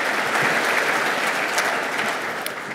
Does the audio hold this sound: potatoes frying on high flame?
no